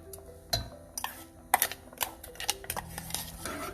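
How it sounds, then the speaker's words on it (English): A spoon scrapes and clinks against a metal pot in irregular strokes while stirring ground brown rice cooking in water, a close, steady sound with small sizzling in the background. "So keep stirring it till it gets cooked."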